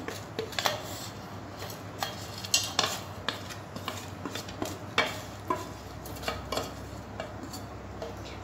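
Roasted onion and tomato for peanut chutney are scooped into a mixer jar, with a steady run of light spoon scrapes and metallic clinks against the jar, close and fairly quiet.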